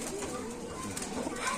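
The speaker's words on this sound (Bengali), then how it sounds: "দর্শক দেখেন কবুতরগুলো কতটা অ্যাক্টিভ মাশাআল্লাহ" Soft pigeon cooing at a busy pigeon market in Bangladesh, faint low coos over a murmur of crowd noise and voices.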